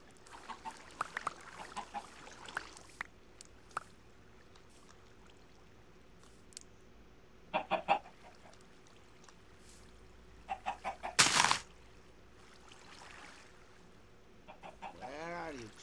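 Minecraft chickens clucking in short scattered bursts over a quiet game background, with a few louder squawk-like notes and faint other sounds between them.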